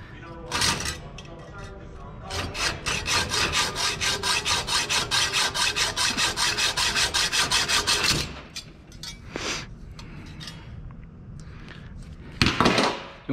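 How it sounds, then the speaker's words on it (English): A hacksaw cutting a metal rose stem clamped in a vise, making a close, rhythmic rasping of fast back-and-forth strokes for several seconds, followed by scattered scrapes and clinks. "You want to make sure you cut as close to that nut as we can."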